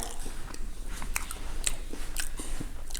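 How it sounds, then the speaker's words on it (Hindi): Crisp bites and wet crunching chews of a raw onion, close and intimate, in a quick irregular series of sharp crackling bursts. "मैं बस एक प्याज खा रही हूँ।"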